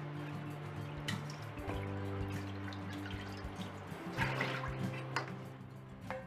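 Water splashes and drips while a scored whole fish is washed clean, a steady close trickle with occasional louder splashes and no talk.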